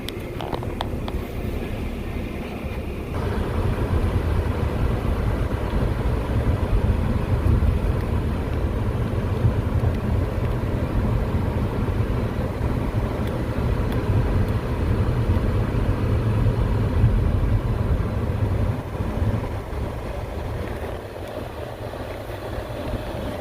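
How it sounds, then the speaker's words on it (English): A 2012 Ford Fusion idles with the air conditioning running, a steady low engine drone and blower hum that holds evenly for over twenty seconds with no talking. "I'm going to let it run for a little bit and see how cold it gets inside the car"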